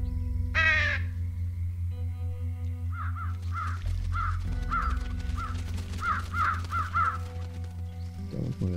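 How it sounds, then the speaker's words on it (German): Crows caw in the video game Trüberbrook, a run of short rhythmic calls repeating over a steady low ambient hum, with a brief higher tone near the start and no talk. "Können wir die Vögel holen?"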